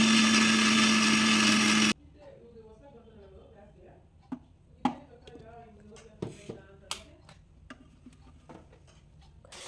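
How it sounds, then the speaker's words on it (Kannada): A mixer grinder blends spinach (palak) with a little water, giving a loud, steady whirring roar for about two seconds before it cuts off. Light clicks and scattered taps follow in the quiet. "ಸ್ವಲ್ಪ ನೀರು ಹಾಕಿ ನೀಟಾಗಿ ಮಿಕ್ಸಿಯಲ್ಲಿ ಬ್ಲೆಂಡ್ ಮಾಡಬೇಕು"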